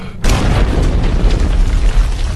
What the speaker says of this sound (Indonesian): Dan sampai akhirnya dinamit yang mereka pasang pun meledak.